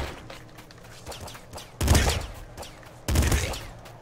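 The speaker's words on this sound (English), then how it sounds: "Assault rifle's really powerful." Assault rifle fire in the top-down shooter Nuclear Throne comes as two short, loud bursts of rapid shots about a second apart, with quieter game sounds between them.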